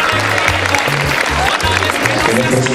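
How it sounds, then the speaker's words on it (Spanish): Audience applause at a Mexico City cultural event, continuous dense clapping filling the room, with talk and voices mixed under it throughout. "Vamos a darle otro fuerte aplauso a los compañeros del primer año"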